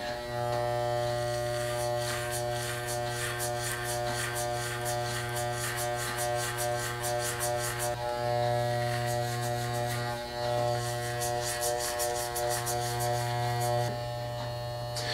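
Electric hair clippers cut a bald fade, a continuous close motor buzz with a steady hum holding for the whole stretch, briefly interrupted a few times as the blade shifts, with no speech.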